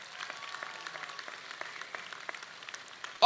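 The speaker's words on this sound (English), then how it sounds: "Let's give them a round of applause." A commencement crowd at a San Diego community college ceremony applauds with steady, dense clapping at moderate distance, continuing evenly before a louder burst right at the end.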